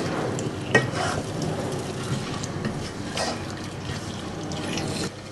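Salted meat fries in a pan over medium heat, with a low continuous sizzle and occasional scrapes and taps as it is stirred; a single louder clank stands out near the start.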